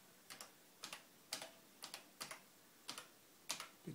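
Keys on a ZX Spectrum +3e computer keyboard are pressed one at a time in a quiet room, about eight soft close clicks at an uneven, unhurried pace.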